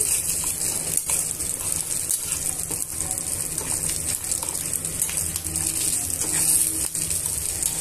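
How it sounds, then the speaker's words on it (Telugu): Curry leaves, chutney ingredients and oil sizzling in a pan over a low flame, a loud, dense, continuous hiss with faint stirring scrapes and no talk. "యాడ్ చేసుకున్న తర్వాత ఇవన్నీ కూడా బాగా వేయించుకోవాలి, దోరగా వేయించుకోవాలి"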